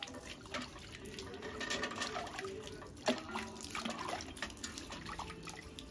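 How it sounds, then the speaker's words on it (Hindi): Water poured over dates to soak them in a village kitchen, a small splashing trickle with scattered drips and gurgles, close and fairly quiet, with no talking. "ये जो खजूर है इसको भी मैं थोड़ा थोड़ा भिगा देती हूँ।"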